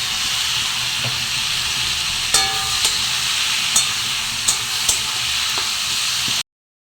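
Garlic fries with turmeric, chilli powder and salt in a pan, a continuous loud sizzle broken by several sharp clinks of a spoon scraping and stirring, then cutting out abruptly.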